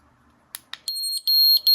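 Delupet dog training collar sounding a series of high-pitched electronic tone beeps, starting with short clicks and then sustained steady tones broken by brief gaps, loud and close with no talking.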